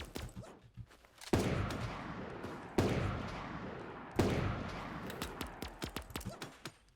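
Gunfire in the video game Super Animal Royale: three sharp, loud shots at regular intervals, each with a decaying tail, followed by a flurry of quicker, fainter pops.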